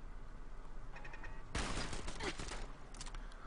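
Rapid gunfire from a weapon in Fallout 4, a loud burst of quick shots crackling in a fast string after a quieter stretch, with a few further shots near the end over steady background noise.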